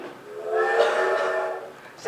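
A steam train whistle effect in a theatrical arts-festival stage performance, a sustained, fairly loud tonal blast lasting over a second with a slight swell, with a voice briefly present around it.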